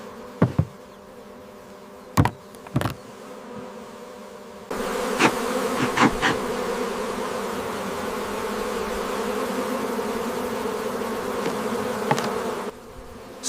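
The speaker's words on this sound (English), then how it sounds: "Smoke is used to calm the bees before harvesting begins." Honey bees buzzing at a beehive in a dense, steady drone that swells louder partway through, with a few sharp knocks and taps from hive work, no voices.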